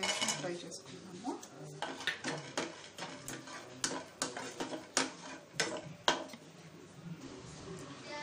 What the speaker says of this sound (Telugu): దీన్ని ఒక నిమిషం ఫ్రై చేసుకుందాము.